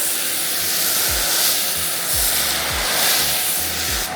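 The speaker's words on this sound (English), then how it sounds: "Let's spray the front." Foam Party pH neutral soap sprayed onto a car's front, a steady broad hiss running the whole time with low thumps from a pump or foam gun underneath.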